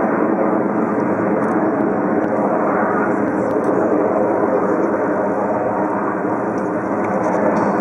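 Display team jets flying a loop in chevron formation at the Farnborough Air Show 2010, a loud sustained roar of jet engines that holds steady throughout, heard from the ground.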